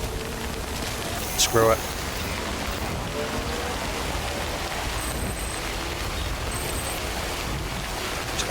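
Steady rain in the video game Death Stranding, heard as a continuous broadband hiss with a soft rumble beneath. A brief voice cuts in near the start.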